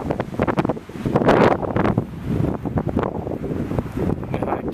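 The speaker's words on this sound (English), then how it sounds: "It's very windy" Strong, gusty wind at Blind Lake on Boulder Mountain, Utah, buffets the microphone with a loud, continuous rumbling roar that surges and eases without a break.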